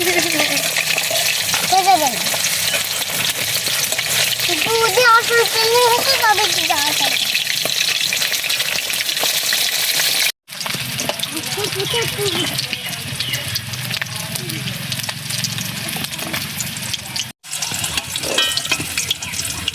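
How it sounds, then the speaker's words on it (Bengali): Rohu fish fries in hot oil in a pan, a continuous close sizzle running throughout, with people chatting over it and two brief cutouts. "দেখো মাছটা কত সুন্দর লাল লাল করে ভেজে নিয়েছি,"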